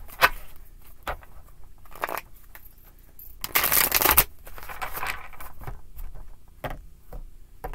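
Several short bursts of cards being shuffled, with a louder, longer riffle in the middle, then lighter tapping and card handling.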